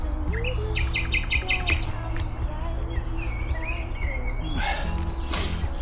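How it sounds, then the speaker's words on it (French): Birds chirp and sing in the morning at an outdoor leisure park in Brumath, several bright, varied calls and trills over a steady rumbling background hum, moderately distant. "Ils sont bien réveillés les oiseaux."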